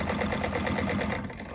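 Sewing machine stitching a bag seam, a fast, even mechanical whir with rapid needle clatter, close and steady throughout, slightly easing at the end.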